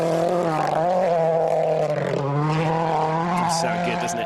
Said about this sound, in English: the mini John Cooper works with that distinctive sounding twin exhaust. Let's have a listen as he passes